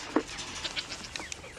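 A male goat penned apart from the herd on a farm gives a short bleat near the start, followed by faint scattered animal sounds and light background noise.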